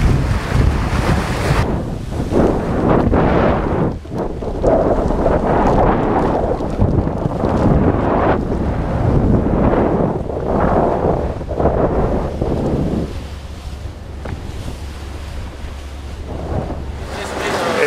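Wind buffeting the microphone and waves rushing against the hull aboard the racing sailboat Dongfeng at sea, loud and continuous with gusty surges and a lull near the end.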